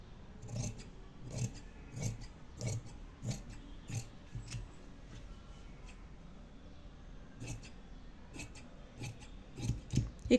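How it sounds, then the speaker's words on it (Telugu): Scissors snipping fabric for a size 42 princess cut boat neck blouse, a steady series of crisp, evenly spaced close cuts with a short pause midway, no speech. "ఇప్పుడు కటింగ్ చేసేయటమే."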